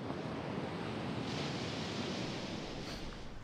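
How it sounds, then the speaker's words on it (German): Strong ocean surf rushes and roars as a dense, continuous wash of noise, with wind buffeting the microphone throughout and no voices. "die Wellen sind echt ganz schön stark"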